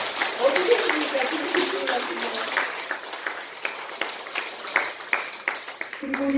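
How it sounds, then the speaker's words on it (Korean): A congregation at a Sunday Won Buddhist service claps together, a moderate, somewhat distant patter of hands that thins toward the end, with a voice briefly audible as it fades. "보이지 않는 곳에서 공심으로 해주시는 우리 최인원 15단 교도님께도 박수 한번 보내드립니다"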